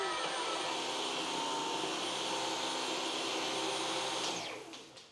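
A Dyson vacuum cleaner runs steadily at close range with a loud, even whine, then winds down over the last second as it is switched off.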